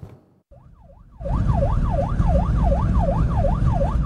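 A local police siren wails in a rising and falling two-tone sweep during a car chase in Arrecife, loud and continuous over heavy traffic rumble after a brief quiet start.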